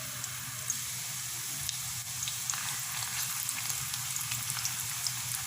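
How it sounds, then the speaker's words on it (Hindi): Chicken koftas sizzle in oil over medium-low heat, a steady crackling fry with small pops scattered throughout, close and even, with no one talking. "और ऐसे ही धीमी से दरमियानी आंच के ऊपर इनको हल्का सुनहरा सा फ्राई कर लेंगे।"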